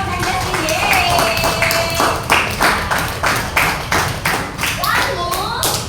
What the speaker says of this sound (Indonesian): Tepuk tangan dong untuk Devon dan Jesslyn